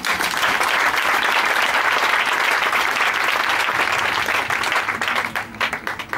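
A church congregation claps for the Lord in steady, dense applause that fills the room, holding strong before thinning into scattered claps at the end.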